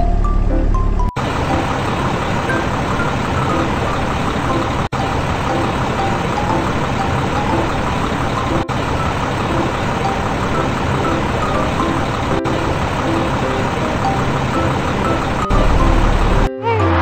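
The motor of a rescue truck in a children's animal-rescue cartoon game drones loudly and steadily, with faint beeps and a few brief breaks, and no voices over it.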